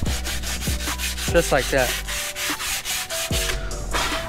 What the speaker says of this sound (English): the reason why we're sanding off all that rust is because we can't just put paint right over it